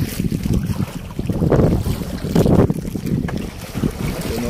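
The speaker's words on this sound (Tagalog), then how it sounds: "Mga kabay, malaki yung alon." Strong storm wind buffets the microphone at the shore of rough water during a typhoon, with heavy waves surging and crashing in loud swells around the middle, steady and close with no talking.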